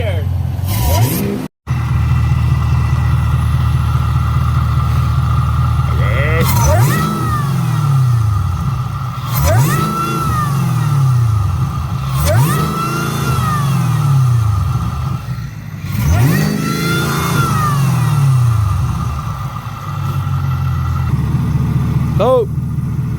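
A Camaro ZL1 with a new lid is revved hard repeatedly: five or six sharp, rising blips with intake whoosh, each falling back to a steady idle rumble, close and loud with people talking between revs.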